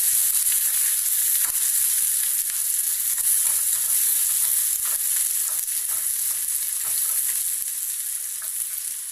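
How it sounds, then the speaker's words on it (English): Onion frying in a pan of hot oil for paneer pulao, a steady close sizzle with a bright hiss that fades a little toward the end, no talking. "Now add onion, fry till golden brown."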